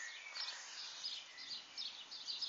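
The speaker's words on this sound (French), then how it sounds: "Les martinets qui sont excités." Common swifts calling excitedly ahead of a thunderstorm, a steady wash of high, thin chirps and screams rising and falling in bursts, faint and distant with no talk.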